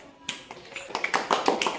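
Children in a second-grade Telugu class clap together, giving a quick run of sharp, close claps that grows denser and louder over a couple of seconds.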